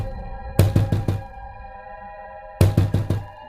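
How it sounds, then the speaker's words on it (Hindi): Knocking on a house door in a Hindi cartoon story: two bursts of four quick, loud raps each, separated by a pause, over a faint steady musical background. "फिर वह उस घर का दरवाजा खटखटाती है।"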